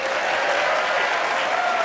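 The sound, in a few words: audience applause and cheering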